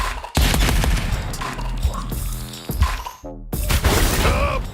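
A Surge Gauntlet blast in the video game Arcadegeddon sets off loud booming explosions with crackling, shattering debris, then a brief near-silence and another burst of blasts.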